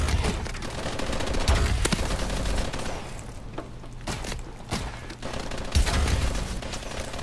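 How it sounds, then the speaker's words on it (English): Gunfire in Call of Duty Advanced Warfare, a dense close fusillade of rapid automatic shots and bursts running almost continuously, with brief lulls between volleys. "We're shooting at each other, guys."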